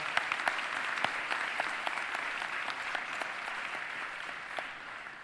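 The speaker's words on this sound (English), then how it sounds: "could we have another round of applause, please, for Anaya, who did the Pledge of Allegiance?" A town hall crowd applauds a girl who led the Pledge of Allegiance, steady moderate clapping with distinct individual claps standing out, fading gradually toward the end.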